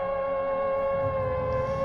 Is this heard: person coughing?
no